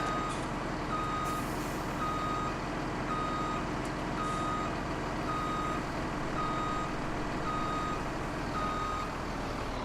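A truck's reversing alarm in Farming Simulator 17 sounds steady, evenly spaced beeps throughout, over a constant loud engine drone with no talking.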